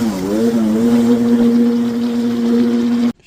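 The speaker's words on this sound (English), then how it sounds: "We have a bit of a rattle going on here." Yamaha GP800XL personal watercraft engine idling close by with a steady droning tone and slight pitch rise at the start, running alone for about three seconds before cutting off abruptly; the rattle itself is not clearly distinct.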